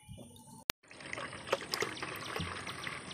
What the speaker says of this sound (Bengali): এভাবে আমি ছাঁকনি দিয়ে দুধটা ছেঁকে নেব।